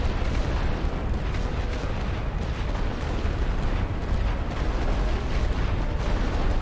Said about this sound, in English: They are launching some heavy artillery at me here